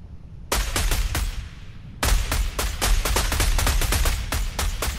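Gunfire in a video game: loud, sharp shots fired close by in rapid irregular bursts, a quick volley followed by a longer stretch of repeated cracks, with no talking.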